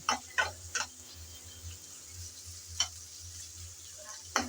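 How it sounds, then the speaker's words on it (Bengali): Sliced onion and garlic are stirred and lightly fried in a pan for a dried shark fish bhuna. A few soft, scattered spatula scrapes and taps sound over a faint, low background hum. "পেঁয়াজ আর রসুন দিয়ে ভালো করে নেড়ে চেড়ে হালকা করে বেজে নেব"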